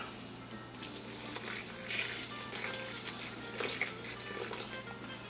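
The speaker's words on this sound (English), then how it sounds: "To that I'm going to add 1 1/2 cups of water." Water pours into a bowl of flour, yeast and salt for no-knead white and whole wheat bread dough, a steady close splashing trickle running for several seconds without talk.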